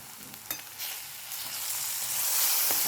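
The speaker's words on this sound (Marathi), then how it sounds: "मस्त एकदम छान मसाला शिजत आलेला आहे आपला." Spiced masala for matar paneer sizzles steadily in a pan, a continuous bright hiss that swells gradually louder with a couple of soft stirring knocks, and no voices.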